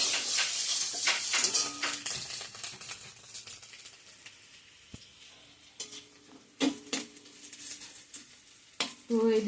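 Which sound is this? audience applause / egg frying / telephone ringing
egg frying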